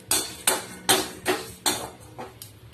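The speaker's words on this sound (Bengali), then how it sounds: "দিয়ে এবার ভালো করে আমি কাঠখোলাতে ভেজে নেবো।" Dried chillies, fennel, five-spice seeds, cumin and black mustard seeds dry roasted in a wok, heard as a regular run of about seven brisk scraping strokes of a utensil against the pan, close and without talk.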